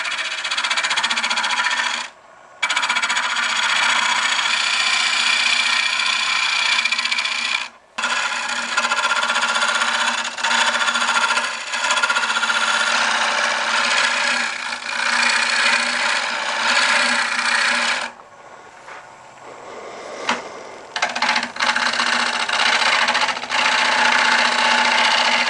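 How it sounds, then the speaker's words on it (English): A scraper shear-scraping the inside of an oak bowl turning on a lathe gives a steady, fairly loud rasping rub. It comes in long passes with short breaks, then fades to quieter lathe running near the end. "I use this tool for sort of shear scraping on the interior of a bowl."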